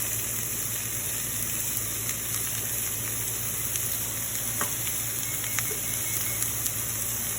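Italian sausage sizzles steadily in a hot pan, a dense, even frying hiss with a few faint pops and scrapes, continuous and moderately loud with no talking.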